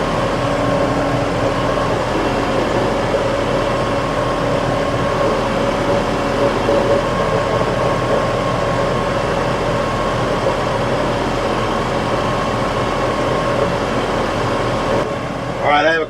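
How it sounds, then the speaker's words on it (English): A TYM T654 tractor engine running while driving, a steady droning hum with a faint gurgle underneath, continuous and close throughout, ending with a brief burst of handling noise. "This tractor has that gurgle in it that my LS has in it."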